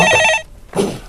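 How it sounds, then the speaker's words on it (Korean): A telephone rings with an incoming call, one loud electronic ring burst followed by a short pause and the start of the next ring, heard alone with no talk. "바로바로 전화가 오고 있네요"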